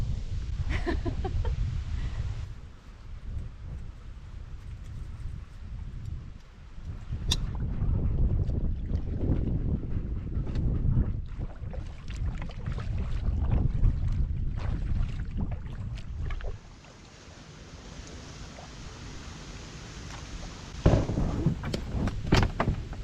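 Strong wind on a lake buffets the microphone with a constant low roar and gusty surges, sustained throughout with occasional sharper gusts.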